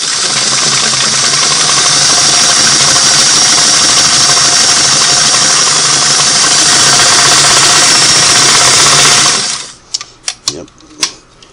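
Singer Model 338 sewing machine stitching a fashion disc pattern at a wide zigzag setting: a loud, steady, fast mechanical whirr and chatter that runs for about nine seconds, then stops and leaves a few separate clicks.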